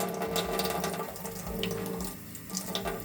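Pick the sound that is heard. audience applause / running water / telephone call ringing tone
running water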